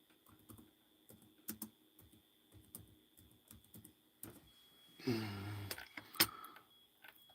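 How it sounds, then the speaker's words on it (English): Faint, scattered keyboard typing sounds over a quiet room background, with irregular key taps and a louder rustling burst near the end. "Oh, I have to type that one in."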